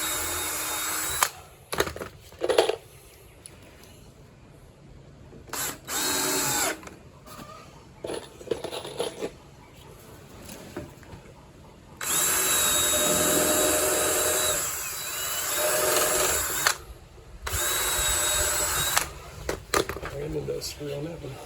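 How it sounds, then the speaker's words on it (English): A power drill drives screws into a 9.5-foot wooden punt-style boat in several whirring bursts of varying length, separated by pauses and work noise, with a person talking between runs. "Always have a tendency of probably using more screws than I need."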